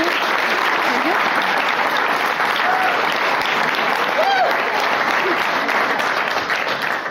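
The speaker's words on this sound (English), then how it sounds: "Give a round of applause." Audience applause at a guide dog school graduation ceremony, steady sustained clapping from a large crowd filling the room, with faint voices and brief vocal sounds mixed beneath.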